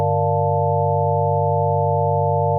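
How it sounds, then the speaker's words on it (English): The default basic wavetable tone of the Pigments synthesizer, a loud, steady, buzzy sustained chord that holds unchanged with no other sounds. "hit new preset, and it'll give you this basic wavetable"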